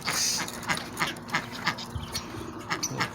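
Ducks quack in short bursts amid other backyard poultry, with chickens, pigeons and geese nearby; calls are moderately close and irregular over faint background noise.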